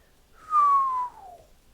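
A single person whistles one clear gliding note that slides steadily downward in pitch, close and moderately loud, with no talk over it.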